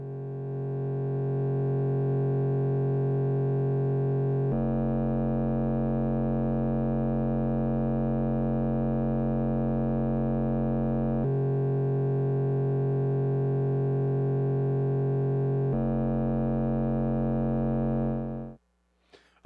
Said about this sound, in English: we could take a look at how the sound changes when we go back to a sine wave.